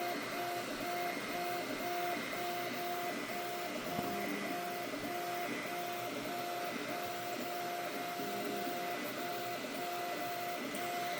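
An Anycubic Kobra 3 3D printer runs steadily while printing, its stepper motors whining and shifting pitch as the print head moves and accelerates, with a constant fan hum underneath and no talking.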